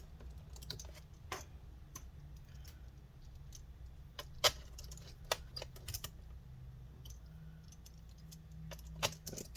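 A screwdriver drives the last tiny screws into an HP Spectre x360 laptop, giving faint, scattered clicks and ticks over a low hum, irregular and quiet throughout.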